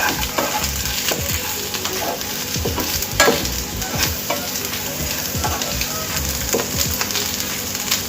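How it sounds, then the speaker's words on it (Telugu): Pieces of colocasia are stir-fried in a pan for a spicy dry fry. A spatula scrapes and knocks against the pan while constant loud sizzling continues throughout. "ఫ్రై చేసుకోవాలండి."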